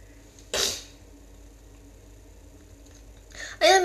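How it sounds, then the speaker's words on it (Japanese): A single sharp sneeze bursts out close to the microphone, followed by a second explosive burst near the end, each standing alone against a quiet room. "めっちゃくしゃみ止まらんのだけど"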